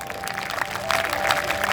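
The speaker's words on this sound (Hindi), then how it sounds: "एक बार स्वयं के लिए सब लोग ताली बजाएं।" An audience claps at an International Yoga Day event, a scattered patter that swells into fuller applause partway through.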